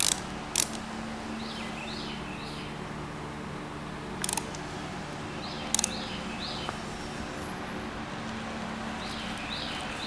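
A tool tightens a bolt on motorcycle forks with a few sharp ratchet clicks in short bursts, over a steady low background hum.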